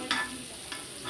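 Chili powder and spices stirred in a pan for mutton biryani, a couple of brief scraping strokes over a quiet sizzle, no voices.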